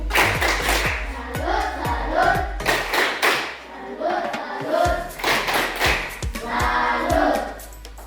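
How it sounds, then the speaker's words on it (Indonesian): A classroom group performs a rhythmic salute clap: bursts of sharp, patterned hand claps and thumps in short sequences, with voices chanting or calling between the clapping rounds. "kita tepuk salut untuk kita semua"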